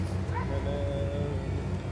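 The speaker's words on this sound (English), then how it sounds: "They said the dogs attacked it." Hunting dogs yip, whimper and bark in a snowy winter forest during a wild boar hunt, excited calls overlapping against steady background noise, with a faint voice at times.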